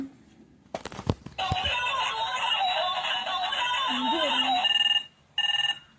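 A toy telephone rings loudly in a children's pretend shop game, a sustained electronic ringtone that stops briefly and then returns in a short burst, with a few knocks just before it starts.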